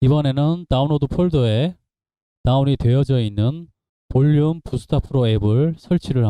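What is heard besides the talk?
No everyday noises stand out.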